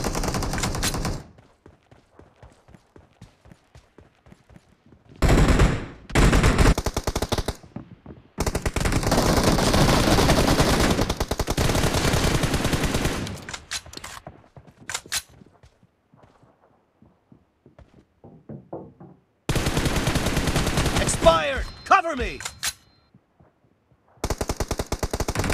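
Rapid automatic gunfire in the mobile battle-royale game BGMI comes in loud, sharp bursts separated by quiet pauses, with short single shots and clatter between the volleys and no talk.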